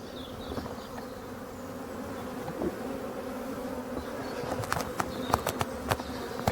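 A swarm of honeybees pours out of the hive in early March, a steady, close buzzing drone with individual bees zipping past in sharp passes toward the end.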